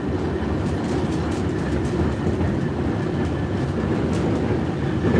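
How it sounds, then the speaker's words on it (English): A No.3 tram in St Petersburg rolls along its rails, a steady low rumble with a continuous rattle of wheels and carriage heard from inside, loud and unbroken throughout. "Now we're making the tram ride."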